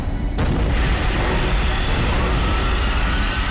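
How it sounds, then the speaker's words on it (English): Pressurized tanks of volatile liquids and gases explode from the heat of a fire with a sharp, loud blast, followed by a second crack and a sustained roaring rumble of flames and debris. "Heat from the flames causes the volatile liquids and gases to expand in their pressurized tanks, then explode"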